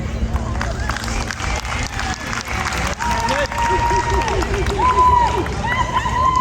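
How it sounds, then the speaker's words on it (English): Audience at an 8th grade promotion ceremony applauding, dense steady clapping from a crowd held at an even level throughout, with murmuring voices and a few whistles mixed in. "Let's give a grand round of applause for these students"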